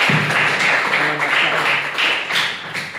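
Small classroom group applauding for a speaker, close and steady clapping that tapers toward the end.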